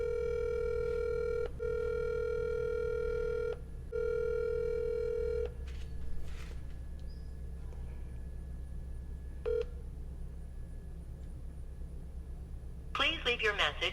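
A phone call is placed from a home-building site: steady dial and ringback tones pulse in long regular bursts, followed by a few short beeps and a brief scrambled burst near the end, with low background hum throughout.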